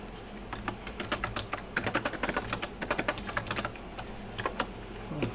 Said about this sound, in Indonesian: Maaf ya, keyboard saya kurang enak.